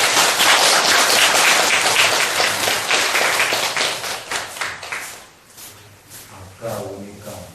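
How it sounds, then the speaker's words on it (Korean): Audience applause welcoming a monk at a Buddhist meditation center gathering, a loud, dense burst of clapping that fades after about five seconds into scattered claps and room noise. "박수로."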